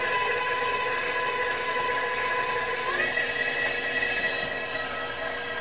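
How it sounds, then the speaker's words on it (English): An electric hand mixer beats candy melts with heavy cream for chocolate frosting, a steady whirring motor hum that runs without a break, with a slight pitch shift partway through and no talking. "we're going to go ahead and start our mixer"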